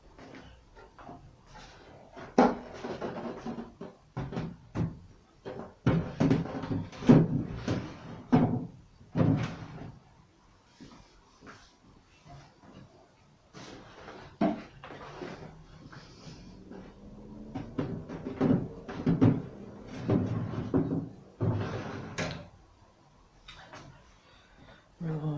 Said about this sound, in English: I've got tape on so the drawers won't go in properly.